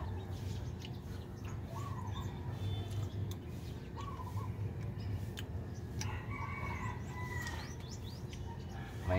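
Pet chickens cluck and a rooster crows faintly in the distance over steady outdoor background noise, with a few scattered bird calls.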